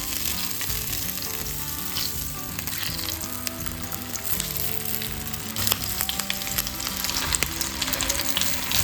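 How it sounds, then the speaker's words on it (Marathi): Prawns fry one by one in hot oil in a kadai, producing a steady, close bubbling sizzle with occasional sharper pops and crackles that swell slightly toward the end, with no speech. "सो आतां हांव हे 1 बाय 1 प्रॉन्साचे हे फ्राय करून घेता"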